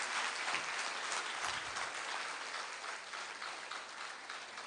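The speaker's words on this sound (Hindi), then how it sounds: "अच्छा, ताली बजा दी।" Audience clapping after a short meditation exercise at a gathering, a dense steady round of applause that fills the whole moment and tapers slightly toward the end.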